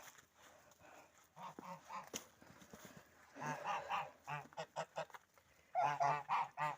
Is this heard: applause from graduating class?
no